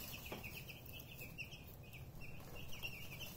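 A backyard flock of chickens clucks softly and fairly distantly, with brief bird calls scattered over a quiet outdoor background.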